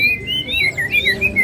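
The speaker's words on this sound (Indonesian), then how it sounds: "Murai blorok gacoran." A magpie-robin songbird sings loud and close, a quick run of bright whistled notes and rising and falling trills repeating without pause over a soft background murmur.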